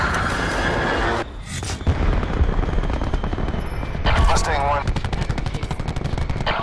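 Rapid aircraft gun bursts in a Call of Duty match, loud repeated fusillades of gunfire with a brief lull, layered with game sounds and a radio-style voice.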